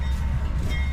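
Amtrak's Silver Meteor train leaves Sebring station in Florida, a steady loud rumble of rolling cars and engine heard from a nearby hillside, continuous throughout with no talk.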